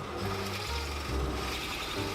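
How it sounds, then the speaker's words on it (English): A steady grinding drill buzz bores holes into wood for jewelry boxes, a continuous close-up whir with slight shifts in pitch and no talking. "just drilling the holes now, just lining them all up with my marks"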